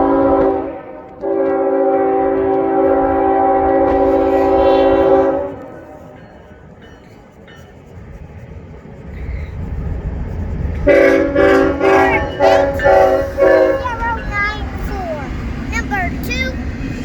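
Norfolk Southern intermodal freight train at a grade crossing in Chattanooga, with a loud, sustained horn blast, then rumbling wheels and a second horn sounding amid chatter from nearby onlookers.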